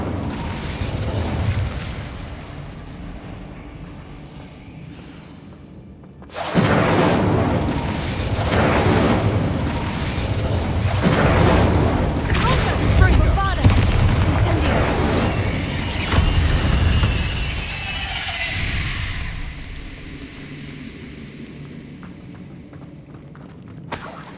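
Incendio, the fire spell in Hogwarts Legacy, is cast inside a mine. After a quiet, low ambient hum, a sudden loud burst of flame erupts into a roaring, crackling blaze with whooshing and whistling layers, then it fades after about fifteen seconds.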